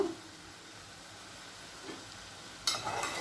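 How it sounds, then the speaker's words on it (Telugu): Green chillies hit hot oil in a pan with amaranth leaves and moong dal, giving a steady soft sizzle, with a sharper burst of frying hiss near the end. "సో దీనిలో నేను పచ్చిమిర్చి వేస్తున్నాను."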